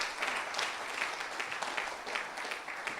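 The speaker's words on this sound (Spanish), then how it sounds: "Denle un aplauso a Jesús" Church congregation applauding during a Spanish-language sermon, a steady wash of many hands clapping at moderate distance, sustained and even throughout with no speech over it.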